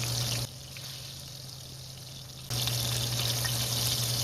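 Chicken fried steak frying in hot grease, a steady broadband sizzle that drops quieter for a couple of seconds and then swells back up loud, with no talking.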